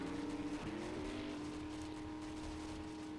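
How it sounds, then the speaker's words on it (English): A small bumper car in the game 7 Days to Die gives off a steady, faint motor hum with a rising tonal whine that settles into a constant drone, with no talking. "We can sit here and drive a little bumper car."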